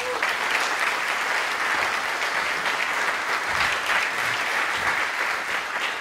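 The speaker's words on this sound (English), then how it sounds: "give a really warm, tea-warm applause to Andrew Clark" Warm audience applause for Andrew Clark at a talk, a continuous wash of clapping from a full room, steady and even throughout.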